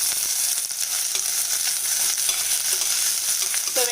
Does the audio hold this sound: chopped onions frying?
yes